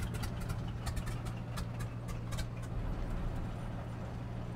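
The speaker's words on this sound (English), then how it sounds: "Nice little shudder there as well as the engine shuts down" Radial engine of a Stearman PT17 biplane in Microsoft Flight Simulator, a low rough idle with a steady throbbing hum that stays fairly constant and shudders as it shuts down.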